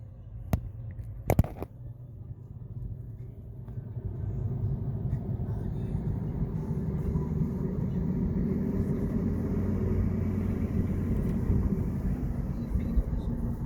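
A 2012 Mazda 3 with a rebuilt 6-speed manual and a 150 horsepower direct-injection four-cylinder drives in gear, heard from inside as a steady, low engine and road rumble that builds gently after a few sharp clicks.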